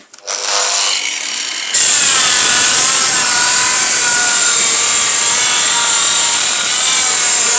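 A Distar diamond blade on an angle grinder bites into ceramic tile, a brief spin-up followed by a loud, sustained high-pitched cutting whine with a gritty grinding texture, close and continuous to the end.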